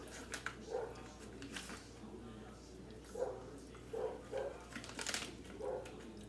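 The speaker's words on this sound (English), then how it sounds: "Who is he barking at?" A dog barks several times at a distance, short muffled yelps spaced irregularly over low room noise.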